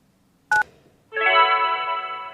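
Electronic telephone keypad tones in the Kentucky Route Zero video game: one short two-tone beep, then after a pause a longer, sustained tonal ring, clear and close with no talk.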